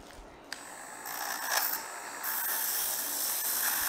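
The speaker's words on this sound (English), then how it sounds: "now we're gonna grind the surface before we can do it" A grinding tool buzzes against the surface of a broken plastic soap dispenser pump being prepared for soldering. A bright, hissing whir starts after a click, pulses briefly, then settles into a steady, close grind.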